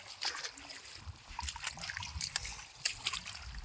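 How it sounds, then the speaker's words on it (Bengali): Water poured onto a lotus leaf at a pond trickles and dribbles off in a light, continuous patter, fairly faint with small splashes. "এই দেখুন পদ্মে পাতায় জল দিলে থাকবে না, চলে যাবে।"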